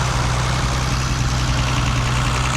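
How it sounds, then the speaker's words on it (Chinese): A Mercedes C107 280 SLC, just repaired after a fuel distributor fault, idles at about 1200 rpm with no idle control motor, making a steady, loud, close low hum and a faint knock, with no one speaking. "因为它没有怠速马达，所以说现在转速1200多"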